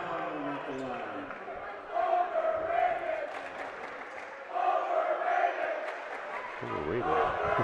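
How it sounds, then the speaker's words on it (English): A student section at a high school basketball game, Wauwatosa West at Waupun, chants in rhythmic bursts within a gym; the crowd voices swell and fall in waves under an announcer's commentary. "Students are having fun with the chant."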